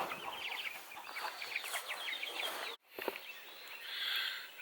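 Young chicks in a chicken tractor cluck and peep faintly in scattered short calls over outdoor background noise, with a brief dropout partway through.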